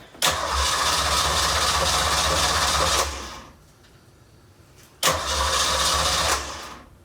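A car engine cranks over on battery power in two loud, steady bursts of rhythmic starter churning, the first about three seconds long, then a quiet pause before a shorter second crank.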